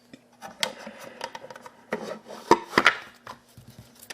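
Sleeved trading cards being slid into a 3D printed deck box make scattered short scraping and rubbing sounds, with a few sharper clicks and knocks partway through, close and quiet between bursts.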